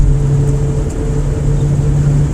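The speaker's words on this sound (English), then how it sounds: "Let this truck go by me." A truck rumbles steadily nearby with a low droning engine hum and broad road noise, holding constant throughout without any voices.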